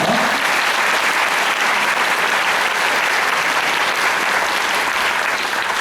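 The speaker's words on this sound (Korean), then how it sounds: "다시 한번 큰 박수 부탁드리겠습니다." Loud, sustained applause from the crowd at the opening ceremony of the Jecheon International Music Film Festival following a musical stage performance, a thick, even roar of clapping throughout.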